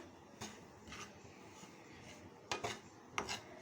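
Wheat flour is stirred and roasted in a pan for halwa, giving a few faint, soft scraping strokes with short gaps between them.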